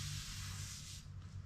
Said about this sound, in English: wait for it to stop spraying out